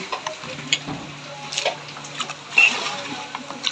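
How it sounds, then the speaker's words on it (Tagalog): Cold water poured over fresh squid while preparing it for sale, giving an irregular, close splashing and gurgling with a few sharper spatters. "Pagbuhos po ng pusit dito, kasabay na po itong tubig na malamig"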